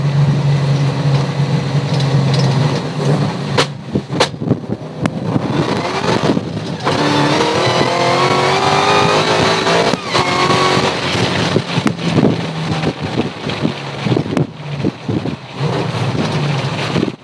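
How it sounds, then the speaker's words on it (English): A Chevrolet Nova with a T56 Magnum manual transmission drives along, its engine droning and rising through the gears, then dropping in pitch with abrupt breaks and blips as it downshifts, heard from inside the car. "Gotta stop downshifting with the clutch in."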